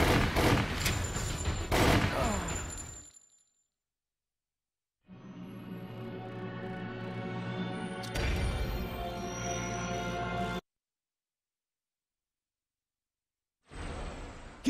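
Gunfire in Resident Evil: The Umbrella Chronicles, loud bursts of rapid shots in two dense stretches separated by silence, a final burst starting at the end, no talk over them.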